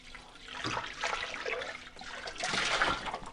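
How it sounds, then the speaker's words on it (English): Water running and splashing to rinse soap suds from a Thermomix TM6 mixing bowl, a close, continuous gurgling flow that surges twice, with no talk. "And now I'm just rinsing out the soap suds"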